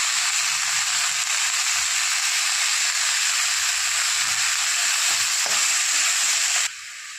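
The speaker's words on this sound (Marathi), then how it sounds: "आता टाकत आहोत कांद्याची पात. स्वच्छ धुवून घेतली बारीक चिरून." Finely chopped spring onion greens frying in hot oil in a pan, giving a loud, continuous, close sizzle that runs steadily throughout and drops off slightly at the end.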